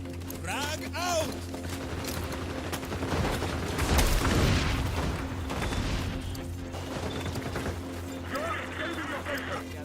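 A frag grenade goes off in the shooter game XDefiant, a loud booming blast near the middle, amid constant gunfire and game noise with someone talking over it.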